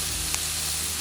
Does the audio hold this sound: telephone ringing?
no